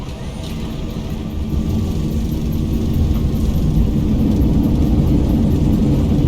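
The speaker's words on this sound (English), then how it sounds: "Pretty much a nice landing. Manual braking." A Boeing 737 NG touches down and brakes on the runway in the X-Plane 12 flight simulator, producing a loud, steady low rumble of engine and roll noise that swells a little after the first seconds, with no speech.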